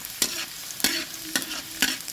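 Garlic is tossed into a pan for squid adobo, and a spatula scrapes and stirs it in four short, evenly spaced strokes over a quiet, steady sizzle. No one speaks.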